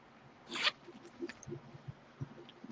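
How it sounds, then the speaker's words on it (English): A zipper on the inside of a leather clutch makes one quick, close, quiet rasp, followed by faint handling taps and rustles. "It also has a zipper in the inside."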